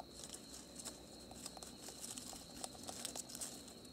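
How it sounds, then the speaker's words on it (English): A cane rat gnaws on vegetation outdoors at night in Africa, a faint, rapid crinkling and crunching patter that continues steadily, heard close but quiet with no talking. "Hear him gnawing away?"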